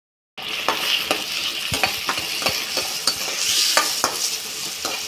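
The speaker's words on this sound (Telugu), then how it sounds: "ఇలా వేసుకొని మనం ఫ్రై చేసుకుందాం కొద్దిగా." Sliced onions and cashews sizzle in hot oil in a pan for egg curry, a steady bright frying hiss broken by repeated scraping stirs and light clicks of a spoon, close and clear with no talking.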